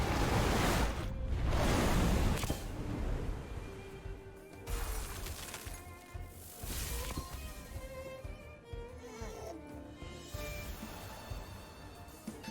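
A Typhoon water attack in the video game Temtem bursts out as a loud, roaring surge of crashing, surf-like water with splashy impacts that rise and fall over several seconds.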